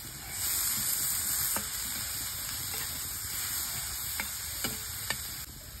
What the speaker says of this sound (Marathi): त्याच्यात थोडंसं मीठ घालूया आणि हा मसाला चांगला परतून घेऊया भरण्यासाठी